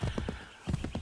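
A horse's hooves clip-clop in Assassin's Creed 3 Remastered, a quick rhythmic run of hoofbeats, a brief pause, then more steps, close and clear.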